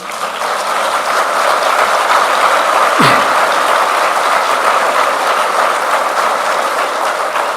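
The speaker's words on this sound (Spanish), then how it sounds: "Dale un aplauso al Señor." A church congregation applauds together in a loud, steady wash of clapping that lasts throughout, with one brief sharp sweeping noise partway through.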